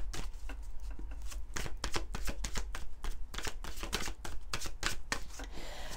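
Oracle cards being shuffled by hand in a steady run of crisp, rapid riffling slaps, close and fairly quiet, with no talk over them.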